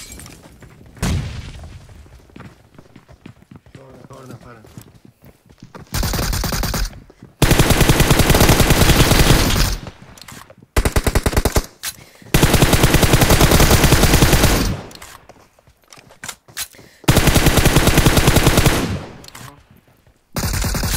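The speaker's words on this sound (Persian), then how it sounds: "علی از بالا میزن ها" Gunfire in the mobile battle-royale game PUBG Mobile comes as long, loud bursts of rapid automatic shots, split by short pauses and quieter gaps.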